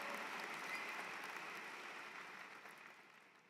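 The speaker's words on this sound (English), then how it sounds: "I heard the applause start" Applause from a graduation ceremony audience fills the space as a steady, moderately distant wash of clapping that slowly fades, with no voices on top.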